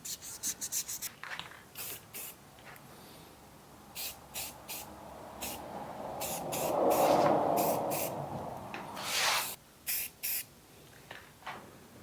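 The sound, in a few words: sanding painted surface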